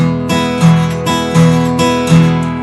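A fingerpicked acoustic blues rhythm, with a steady thumb-played bass pattern and plucked treble notes repeating in a loping groove, close and clear, no voices.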